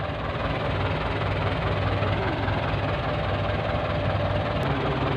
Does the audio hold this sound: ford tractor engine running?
yes